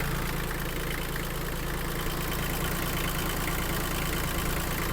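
Iseki TG-27 Japanese mini tractor engine running steadily, its rough diesel-like drone close and constant with a faint knocking texture as the revs are held up, no voices.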